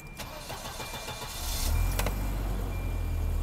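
A Volvo 740 engine cranks and fires up after an oil change, rising into a loud, steady idle close by, with a couple of sharp clicks as it catches.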